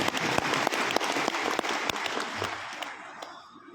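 Audience applause at a Ramadan safari gathering in Indonesia, a full burst of many hands clapping that stays strong and then gradually thins and fades toward the end.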